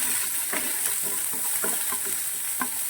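Chopped garlic sizzles in hot oil with a steady hiss, while a utensil stirs through it in several short scraping strokes, close by and without talk.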